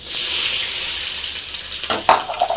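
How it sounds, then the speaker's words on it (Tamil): Hot oil sizzles and crackles steadily as shallots fry, a bright close hiss, with a few louder spits and a stir near the end. "இப்போ பாருங்கள் சாம்பார் வெங்காயம் போட்டுடலாம்"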